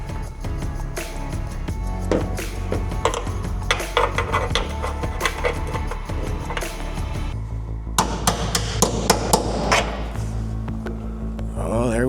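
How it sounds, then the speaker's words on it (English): Hammer blows tap at a stuck part on a pontoon boat under restoration, a run of sharp metallic knocks at an irregular pace, fairly close and loud, with clattering and rattling between strikes. "This bit is stuck in there, so we're going to try to tap it back out."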